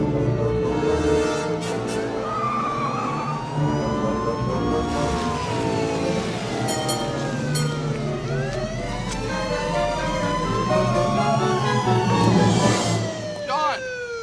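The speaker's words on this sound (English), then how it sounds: "My siren's stuck again." A police car siren is stuck on, its wailing tone sweeping up and down in pitch continuously beneath voices and other sounds.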